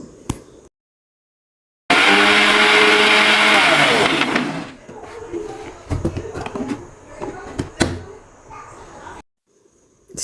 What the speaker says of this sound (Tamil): ஒரு மிக்சி ஜாரில் போட்டு ரெண்டு தக்காளி கொஞ்சம் பெரிய சைஸாகவே கட் பண்ணி போட்டு நல்லா பேஸ்ட் மாதிரி அரைச்சி எடுத்துக்கலாம்